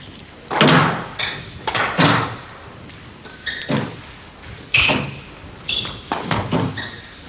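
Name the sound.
squash ball rally, ball hitting racket and walls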